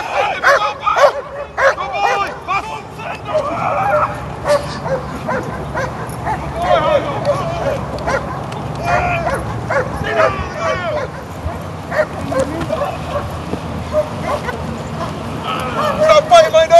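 A dog yips, barks and whimpers in an excited, continuous stream close by while being held, with people talking over it throughout.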